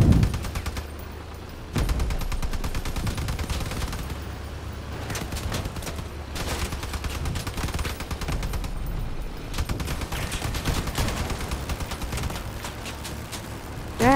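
Bursts of rapid gunfire in the video game Crossout crackle almost without pause, with sharp shots and machine-gun rattles over a dull rumbling background.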